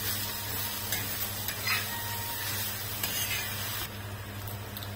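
Kunjir wild greens sautéing in a pan with a steady, soft sizzle and occasional stirring scrapes, close by and alone, with no talking.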